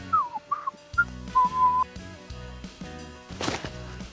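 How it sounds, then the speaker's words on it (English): Dholes give their signature whistle call: several short, clear, high whistles at close range, followed by knocks, thuds and a rustling burst. "they make their signature whistle"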